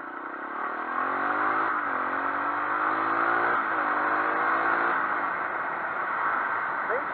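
A Japanese Honda XL 250R motorcycle engine revs steadily up and down, a loud, close, continuous buzzing drone with rising and falling pitch sweeps throughout.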